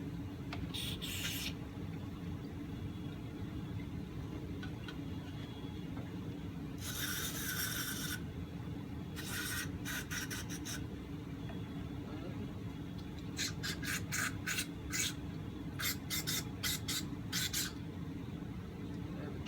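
Bursts of compressed air hiss through a vintage 1968 Sears Clinton 3.5hp outboard carburetor during cleaning, coming in several short spurts and a few longer blasts over a steady low workshop hum.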